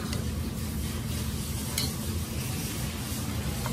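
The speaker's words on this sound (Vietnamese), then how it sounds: "Trộn lên cho nó thấm á." Grilled beef and nem lui get tossed and stirred with sauce at a long-running Saigon alley eatery, a close, continuous wet mixing and sizzling texture with no talk.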